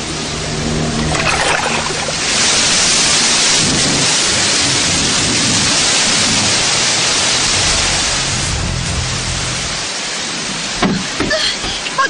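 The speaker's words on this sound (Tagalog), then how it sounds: "Bagyo naman yun eh." A heavy thunderstorm with loud, steady rain roaring throughout and rumbling thunder, rising to a sustained downpour and easing briefly near the end.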